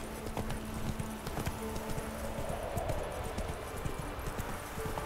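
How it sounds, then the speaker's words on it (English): Several horses' hooves clip-clop in a quick, overlapping rhythm at a moderate distance in the video game The Witcher 3, with a faint whinny mixed in and no clear talk. "Bandits can ride horses as well out here."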